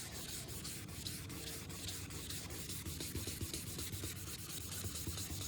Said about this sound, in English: Let me get the sandpaper wet too.